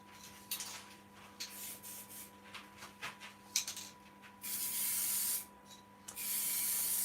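Isopon crystal clear gloss lacquer hisses from an aerosol can in short bursts, then in longer steady sprays, with a faint background hum and no talk.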